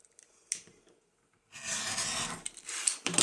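Fabric being cut in two at the 2.5-inch mark while making a four-square patch cushion, a few soft close snips followed by a sustained rough scraping cut, quiet and with no talking.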